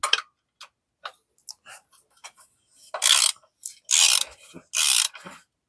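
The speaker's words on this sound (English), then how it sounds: "Let me get this bolt out right here." A ratchet wrench works a bolt out of an engine during spark plug repair, rapid clicking ratchet strokes in short bursts, close up, separated by a few longer grinding turns.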